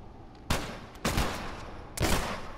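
Gunfire in The Last of Us: Left Behind arrives as three loud, sharp bursts roughly half a second to a second apart, each ringing out over a constant background hiss.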